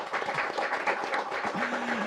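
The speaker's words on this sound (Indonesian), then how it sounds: "Tepuk tangan buat Anda semua" A television studio audience gives a steady round of applause, dense and even throughout at moderate volume, with a faint hum sounding near the end.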